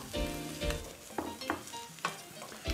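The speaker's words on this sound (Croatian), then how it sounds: "U tavu na luk sada dodamo zamrznuti špinat." Frozen spinach frying on top of onions in a pan, giving a crackling sizzle with several louder bursts of spattering, close up and with no voices.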